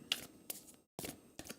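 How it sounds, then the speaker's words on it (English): Quiet riffling bursts of playing cards being shuffled, a few short flurries separated by a brief pause, close and soft. "when I do things like shuffle the cards"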